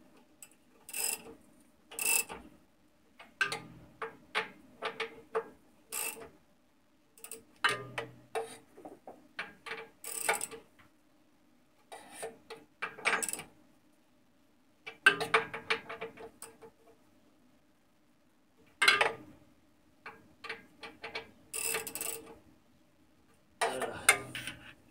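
A ratchet wrench tightens bolts by hand on a Saab 9-3 water pump. Quick series of clicking pawl ticks come in irregular bursts with pauses between them, close and fairly quiet, with no talking.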